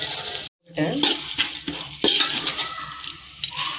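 A spoon clinks and scrapes through mutton masala in a pan as coriander is mixed in, with close metallic strokes and a faint sizzle underneath.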